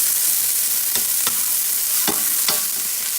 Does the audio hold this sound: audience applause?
no